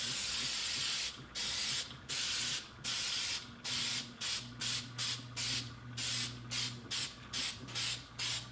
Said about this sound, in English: I'm trying to make sure I get all the interior cuts sprayed down pretty good